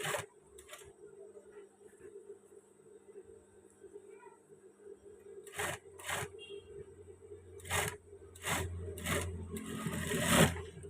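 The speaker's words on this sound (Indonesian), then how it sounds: "ini saya akan jahit di atas lengkungan, paling tidak di atas 2 atau 3 mili ya" Stitching along an Indonesian-style trouser waistband just above its curve, a domestic sewing machine runs in short separate bursts with mechanical rattling, mostly in the second half, over a steady background hum, with quiet pauses between runs.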